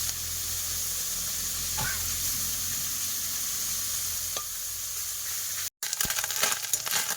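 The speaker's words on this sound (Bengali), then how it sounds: "এদিকে আমি মাছ ভাজছি" Fish sizzling steadily in hot oil in a home pan, a continuous close frying hiss with a few faint clinks, cut by a brief gap near the end before the sizzle resumes.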